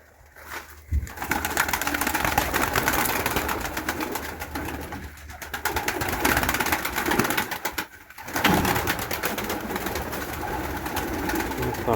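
Pigeons coo steadily in a garden while eating grass, their soft repeated calls continuing for the whole stretch at close range, with brief dips in level and a faint outdoor background.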